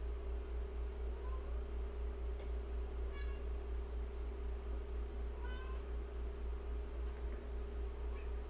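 Male cat meowing twice indoors, short plaintive cries a couple of seconds apart over a constant low hum and fan-like background noise.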